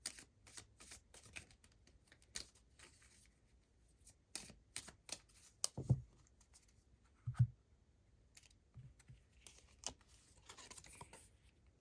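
Tarot cards are shuffled and drawn from a deck, giving soft, irregular riffles and flicks with a few sharper card snaps, quiet and close by with no talking.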